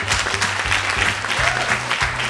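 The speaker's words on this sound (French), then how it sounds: "Applaudissez que j'entends." Crowd applause at a national tribute ceremony, dense continuous clapping throughout with a rhythmic beat of drums or music underneath.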